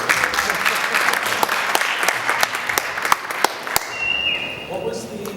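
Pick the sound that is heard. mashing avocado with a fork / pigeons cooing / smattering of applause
smattering of applause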